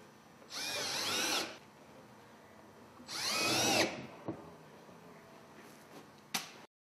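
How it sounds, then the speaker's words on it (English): Power drill driving screws to fasten a linear diffuser adapter in ductwork, two loud whirring bursts of about a second each, separated by a pause, followed by a few faint clicks and taps. "using the template holes as a guide, screw down the adapter"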